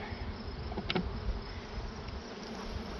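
Honey bees buzz at their hive in a dense, steady drone, close and continuous, with a few individual bees passing nearer.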